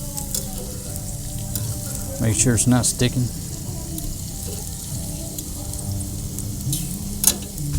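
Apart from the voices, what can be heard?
food sizzling on a grill while stirred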